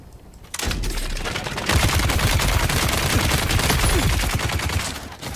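Heavy rapid automatic fire from a hard-recoiling weapon in War Thunder, loud and continuous bursts of dense close shots after a brief quiet start.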